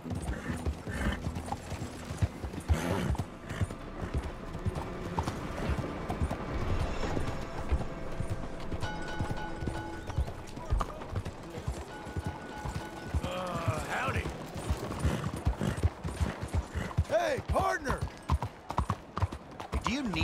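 Hooves of a galloping horse in Red Dead Redemption 2 clip-clop in a fast, continuous rhythm, loud and close, with occasional neighs and game dialogue voices over the hoofbeats.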